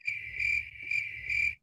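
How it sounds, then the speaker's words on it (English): Crickets chirp as a sound effect in a steady pulsing pattern, three bright trills in quick succession, clean and close with nothing else around them. "And crickets."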